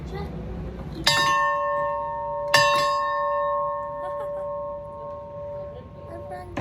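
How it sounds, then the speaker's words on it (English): The ship's bell aboard the tall ship Glenlee in Glasgow is struck twice, each clang ringing out with a long, sustained metallic tone that slowly fades, in a quiet interior. "Let's ring the bell."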